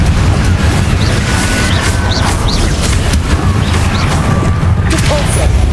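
A Confringo explosive spell going off in Hogwarts Legacy, a loud sustained booming barrage with sharp crackling impacts layered over thick low rumble and brief whistling game effects.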